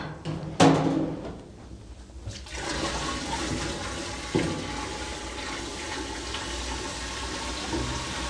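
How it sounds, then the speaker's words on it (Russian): A bucket of water is poured into the tank of a Skoroparka sauna stove, a loud splash and steady gushing fill that rises again partway through, close by with no talk. "Пока с запасом на всякий случай воды заливаю."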